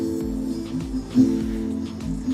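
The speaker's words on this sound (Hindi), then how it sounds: "देखा, गाना चल पड़ा।" A sad song plays from an Amazon Echo Dot (3rd Gen) smart speaker: sustained melodic tones over soft, regularly pulsing bass, heard up close at moderate volume.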